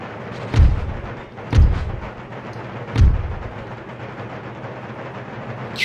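Howitzer artillery in the Empire Total War video game booms three times, deep and heavy, with each blast rolling off into a long rumble over a steady low battlefield background.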